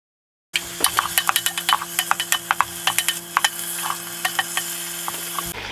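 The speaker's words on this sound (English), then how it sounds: "I'm going to give it a quick stir around." Lamb tagine searing in a Ninja Foodi Max is stirred with a utensil, giving a quick series of sharp scraping clicks over a soft sizzle and a steady mechanical hum from the appliance.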